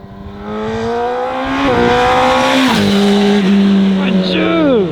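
A Yamaha R1 sport bike accelerates hard with its engine pitch climbing sharply, dropping briefly at each gear change, then climbing again. The whine is loud and close, and a voice reacts over it.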